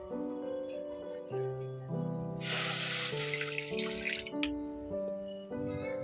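Water splashes from a pour into a cooking pan set up for boiling raw mangoes, a close rushing burst lasting about two seconds over steady background music.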